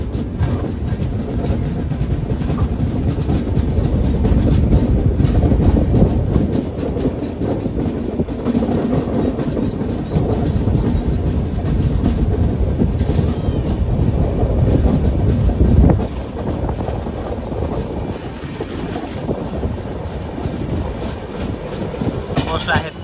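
Shalimar Express, East Coast Express number 18046, running on rails near Warangal, loud close rumble with rhythmic clickety-clack of wheels over rail joints and wind buffeting, steady throughout and briefly easing near the end.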